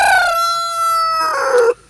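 Young egg-laying hens, including Polish chickens, let out a loud, close, drawn-out crowing call that rises into a final strained burst and then cuts off.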